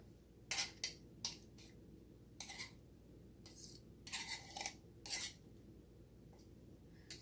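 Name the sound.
pastry blender cutting fat into flour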